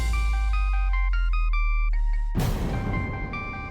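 A phone ringtone plays a steady repeating electronic melody of bright stepped tones, loud and close, then breaks off in a burst of broadband noise before the tune resumes, with no talking.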